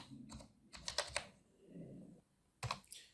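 Keys clatter on a computer keyboard while someone writes code, in quick bursts of close, quiet clicks separated by short pauses.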